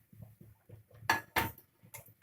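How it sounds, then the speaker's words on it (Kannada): A metal kadai pan is set down on a kitchen stove, giving two sharp metallic clanks close together among softer, rhythmic knocks and handling sounds. "ಈಗ ಒಂದು ಕಡಾಯಿ ಇಟ್ಕೊಳ್ಳಿ."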